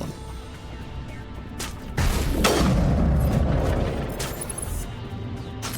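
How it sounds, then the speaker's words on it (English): A heavy explosion erupts in the Mass Effect video game, a loud booming blast hitting about two seconds in and rolling on as a long, rumbling decay over steady game background, with no voices. "Let's go ahead and hit that explosion."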